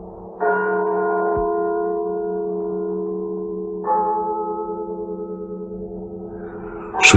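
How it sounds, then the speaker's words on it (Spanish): Church bells tolling on the Night of the Dead, as told in a Soria legend: sustained ringing tones, a stroke at the start and another near four seconds, each left to hum and decay, alone and fairly loud. "el doble de las campanas."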